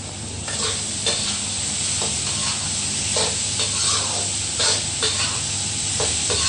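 Chopped onions, one or two finely minced, fry over high heat for a Thai dish, giving a steady close sizzle and hiss with intermittent stirring scrapes throughout.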